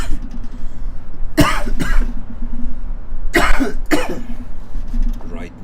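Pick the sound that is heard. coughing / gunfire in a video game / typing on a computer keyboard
coughing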